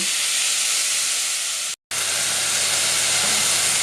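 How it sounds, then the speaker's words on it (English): Minced beef and onions fry in a pan until browned, a loud steady close sizzling hiss that drops out for a split second and then resumes, with no talking. "gently fry off the meat until it's browned"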